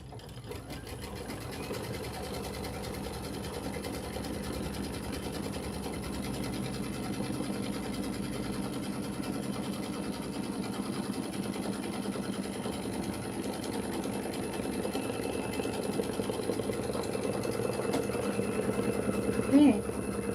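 A sewing machine tacking down a Kimberbell jelly tote insert runs in a steady, close, continuous mechanical whirr with rapid needle clatter, growing slightly louder toward the end.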